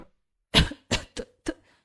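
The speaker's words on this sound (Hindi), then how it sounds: "खांसी हो रही है?" Four short, harsh coughs in a quick series, close and loud, each a bit weaker than the one before.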